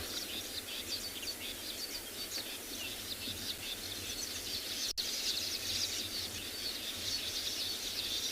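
Black crakes giving rattling calls at a wetland edge on a South African safari, a steady busy chatter of dry repeated rattles and chirps running throughout alongside insect-like trilling, moderately distant, with no one talking.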